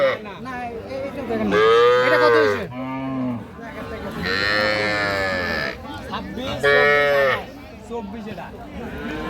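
Heifer calves on a farm in Khulna moo loudly and repeatedly nearby, long drawn-out calls one after another, with a person speaking briefly between them.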